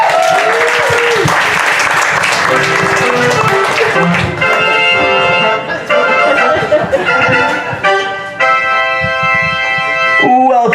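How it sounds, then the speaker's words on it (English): A comedy show audience breaks into loud, sustained applause that mixes with bright ringing musical tones and fades briefly near the end. "Let's give them a round of applause."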